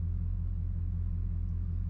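A Bugatti Chiron rolls away through a drive-through lane, its engine a steady low rumble, close and even throughout, with no voices over it.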